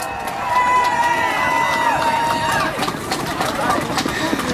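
A large crowd at the 2019 Women's March in Fox Valley cheers and shouts for a group of girls, a loud sustained roar of voices and whoops close around.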